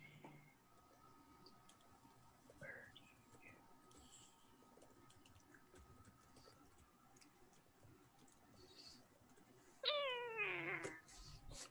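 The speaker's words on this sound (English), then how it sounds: "I literally thought that was my cat for a second." A cat meows once, close and fairly clear, near the end of an otherwise quiet room with faint ticking and low background murmur.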